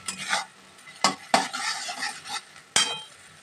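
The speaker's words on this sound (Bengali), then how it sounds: "দেখুন এবার ভালোভাবে কিন্তু তেলটার সাথে এটাকে মিশিয়ে নেব।" Ghatkol leaf paste gets stirred into hot oil, a few quick scraping strokes and clacks of a spoon against the pan over a soft sizzle, close and without talk.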